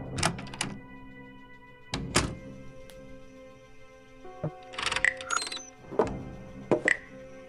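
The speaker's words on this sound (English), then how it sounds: "The door to the kitchen." A few separate mechanical thunks and clunks of a kitchen door opening in the video game Frequency Missing, spaced apart over a low steady hum, with small metallic clinks in between.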